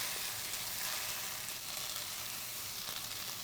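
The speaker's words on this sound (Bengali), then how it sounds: "একদম আমরা ভাজা ভাজা করে ফেলছি" Peanuts fry in a hot pan with a constant soft sizzle and light crackle, close and fairly quiet, with no talking.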